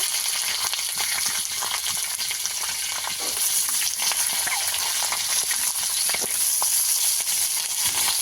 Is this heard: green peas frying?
yes